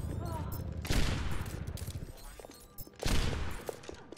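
Gunfire in the video game Overwatch comes as two sharp, loud bursts about two seconds apart, each trailing off quickly, with faint game noise in between.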